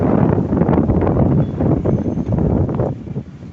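Strong wind buffets the microphone on an open hilltop, a loud, continuous rumbling roar that barely lets up across the whole stretch.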